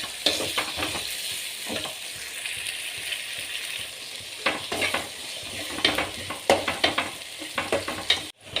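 Tomatoes and onions sauté in a pan with steady sizzling and repeated bursts of spatula stirring and scraping, close and fairly loud, with no voices.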